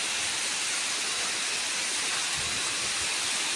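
A waterfall below a high mountain pours with a steady, even, broadband roar, like a continuous hiss of rushing water, with no voices over it.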